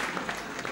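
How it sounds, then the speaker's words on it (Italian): Audience applause at an Italian entertainment show, a brief steady patter of clapping from a crowd that stays at an even level throughout. "Un applauso"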